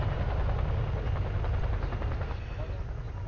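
A friendly helicopter flies in the military video game Arma 3, a loud, steady rotor roar and whine that holds without a break and eases off slightly near the end.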